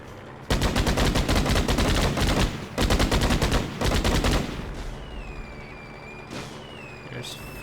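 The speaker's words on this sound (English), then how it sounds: "Hey, what's shooting at me?" Rapid gunfire in the Dreamcast game Toy Commander, loud close bursts of fast repeating shots in three stretches with short gaps, then fading into quieter whistling tones.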